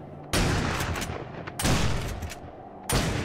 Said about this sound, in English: Okay, what are you shooting at?